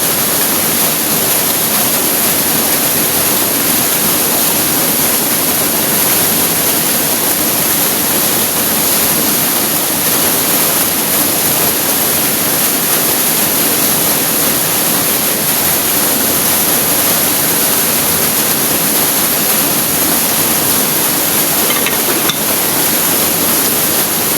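Steady, loud rushing roar of a countryside waterfall, constant broadband wash of falling water with no pauses, heard up close and alone for the whole stretch.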